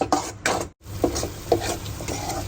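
A spoon scrapes and stirs a garlic chutney spice paste with garam masala in a pan, producing close, rhythmic strokes roughly every half second over a faint sizzle.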